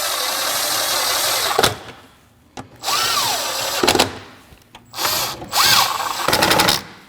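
A power tool snugs bolts on a coolant reservoir in a 2.4-liter Jeep Cherokee, running in several loud whirring bursts, one long and then shorter spurts with pitch rising and falling, separated by pauses.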